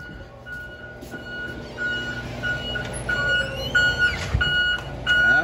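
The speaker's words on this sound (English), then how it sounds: "You can hear the beeping." A steady series of evenly spaced electronic beeps from a school bus wheelchair lift repeats over the bus's rumbling idling engine, with clanks and machinery noise nearby.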